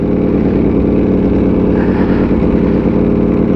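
A Ducati Panigale V4 motorcycle engine runs at low speed around 1,900 RPM, a loud, close, steady low rumble with a dense throb and no pauses.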